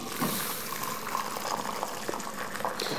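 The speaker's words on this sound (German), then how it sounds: "Jetzt passieren wir uns die Suppe ab. Einfach durch ein so feines Sieb," Homemade chicken broth pours through a fine sieve in a steady, close, continuous splashing stream of liquid with no talking.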